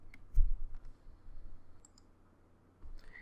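A few faint, sparse clicks of keys pressed on a computer keyboard while working at a Linux command line, with one sharper tap near the start and a low background hum.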